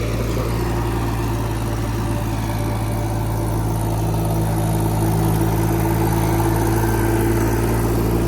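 A tractor-driven mini rotavator runs in a field, a loud, steady, low engine drone with a constant vibrating hum that does not change throughout.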